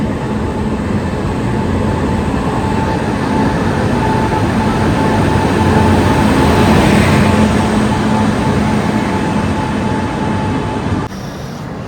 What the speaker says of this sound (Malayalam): കൃത്യസമയത്തിന് മൂന്ന് മിനിറ്റ് മുന്നേ തന്നെ ട്രെയിന് എത്തിയിട്ടുണ്ട്